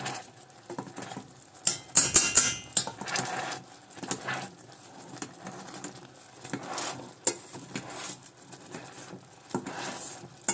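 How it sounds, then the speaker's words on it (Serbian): A whisk beats strawberry fruit cream in a bowl, making irregular bursts of quick patter and tapping against the bowl, with clusters of strokes separated by short pauses. "Ovdje sada uzimam vinječilicu i dobro ću skroz da izvinječim da dobijemo fin i jako ukusan voćni krem."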